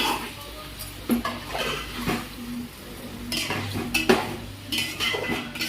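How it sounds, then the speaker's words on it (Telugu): A spoon stirs and scrapes a chicken biryani mixture in a pot, with steady sizzling and irregular utensil knocks against the metal throughout. "ఇదంతా మనం బాగా కలిపేసి మొత్తం ఒక 10 నిమిషాల వరకు బాగా కలపాలి"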